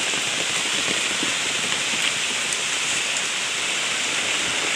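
Heavy rain falls in a steady, dense hiss over a roadside area, loud and unbroken, with faint patters of drops hitting surfaces and no voices.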